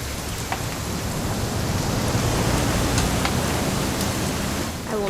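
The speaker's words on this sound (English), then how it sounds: "It's gonna rain the whole weekend," Steady, continuous rain in the video game What Remains of Edith Finch hisses evenly throughout, a dense wash of falling water with no voices and only faint scattered higher ticks.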